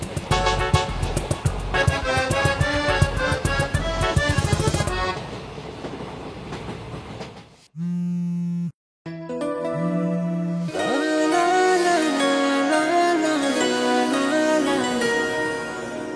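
A train rumbles loudly along the rails with a rhythmic clatter, briefly drops to a near-silent gap, then rolls on with steady noise.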